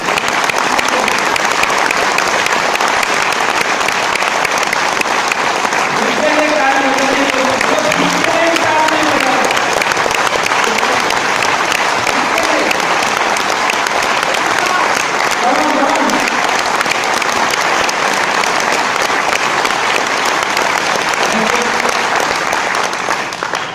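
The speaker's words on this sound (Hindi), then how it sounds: "आपको खुद के लिए जोरदार तालियां बजाइए" Loud, sustained applause from a large audience at a motivational seminar, dense clapping at full volume throughout with faint voices mixed in.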